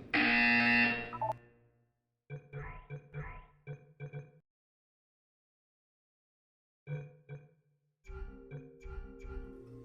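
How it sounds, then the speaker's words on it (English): A relaxation center in the Portal 2 video game sounds short electronic buzzer tones in quick clustered bursts, separated by silent gaps, and a synthetic voice speaks briefly at the start. "You will hear a buzzer. When you hear the buzzer, look up at the ceiling."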